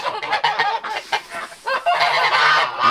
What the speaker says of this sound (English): our most outgoing goose